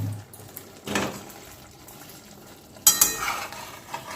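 Parshe fish being stirred and coated in a potato curry in a pan, with a few soft scraping, clinking stirs and a sharper clatter of utensil against the pan near the end.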